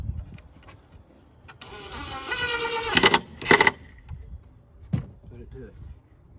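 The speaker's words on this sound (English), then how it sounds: "Drill me a pilot hole." A power drill boring a pilot hole while building a DIY baking sheet rack, a short whirring burst that rises and stops, followed by a few knocks and handling sounds nearby.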